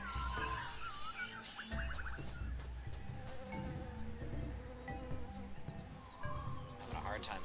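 Bees buzz in the Tales of Monkey Island video game, a faint, wavering drone half-buried under other game sounds and clicks.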